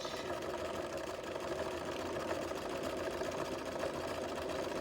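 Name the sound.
sewing machine stitching two pieces of fabric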